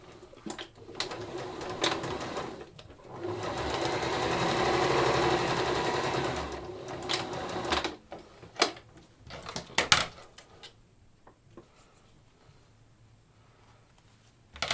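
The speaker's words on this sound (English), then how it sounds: "what I just want to do is top stitch that folded edge to give it a neater look" A domestic sewing machine top-stitches the folded edge of a drawstring bag, a close, rapid run of stitching that swells and stops, followed by scattered clicks and handling knocks.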